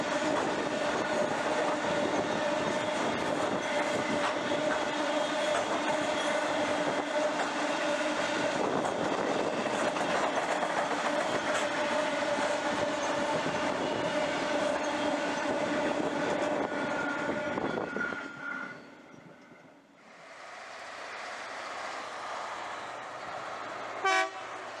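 A long, empty cattle freight train in Queensland, Australia, rumbles past steadily at sunrise, loud and close, with grinding wheel noise, then fades abruptly and leaves quieter distant rumble.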